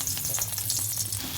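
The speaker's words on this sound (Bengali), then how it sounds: "এগুলো একটা একটা করে ভেজে নেব।" Gram-flour coated stuffed teasel gourd fries in hot oil with a steady, close crackling sizzle and little pops, no talking.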